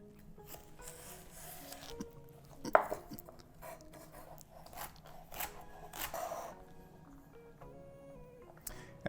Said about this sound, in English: So I'm just going to sort of finely chop this.